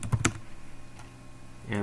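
A password is typed on a computer keyboard during a Gmail sign-in, heard as a few quick soft key clicks at the start and again at the end over a faint hum, with some speech.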